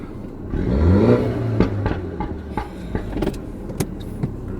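A Mini F56 JCW automatic with its resonator deleted pulls away nearby, the engine rising in a swelling rev, then shifting into a loud rumbling drive punctuated by sharp clicks and clunks.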